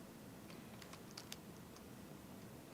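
Several light, quick keystrokes on a computer keyboard at pharmacy software, a short scattered burst of faint clicks over a steady low room hum.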